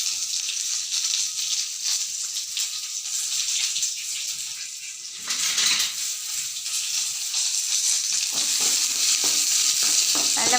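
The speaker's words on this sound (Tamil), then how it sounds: "இதை நல்லா எண்ணெய் ஊற்றிட்டு நல்லெண்ணெய் ஊற்றிட்டு நல்லா வதக்கிக்கோங்க" Small onions and garlic sauté in sesame oil in a pan, a steady bright sizzle running the whole time with a brief dip midway and stirring scrapes, no talking.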